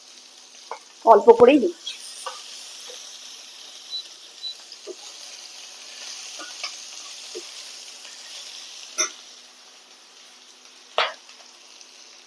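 Grated ginger hits hot oil in a cooking pan with one short, loud burst of sizzling near the start, then fades to faint scattered crackles and light stirring ticks, with a brief bit of speech.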